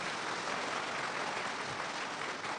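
A church congregation claps together in worship, a dense, steady wash of many hands that fills the room evenly from start to finish with no pauses or talk.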